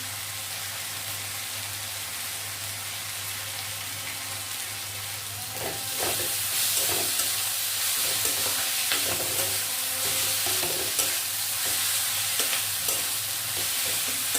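Lote fish chop mixture with chopped green chillies stirred continuously in a pan. A steady low hum comes first, then scraping strokes begin midway over soft sizzling, with no talking.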